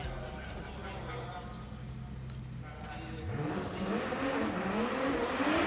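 A Toyota Supra drift car on a qualifying run at Okayama International Circuit. The engine hums steadily at a distance, then swells into a loud rising rev with tire noise as it accelerates, under an announcer's commentary.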